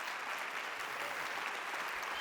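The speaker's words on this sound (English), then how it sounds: "Let's give her a round of applause." Steady, dense audience applause fills a creativity forum hall, continuous clapping from many hands with no break, fairly loud and close throughout.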